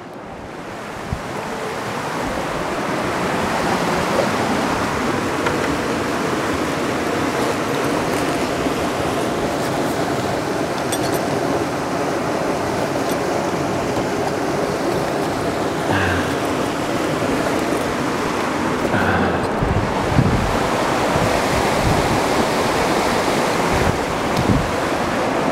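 Swift river water rushes over rapids in a steady, loud, broadband roar, with wind buffeting the microphone and no talk over it.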